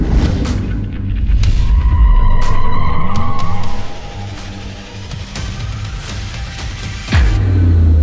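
An electric car driven hard with tires skidding and squealing in long loud screeches, a whining drive note rising and falling between slides, close up and without talk.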